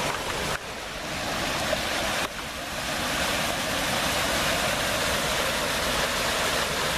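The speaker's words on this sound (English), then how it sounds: "Water's moving pretty good." Fast-flowing creek water pours steadily over a small lake spillway after heavy rains, a continuous broadband rush that stays loud and unbroken throughout.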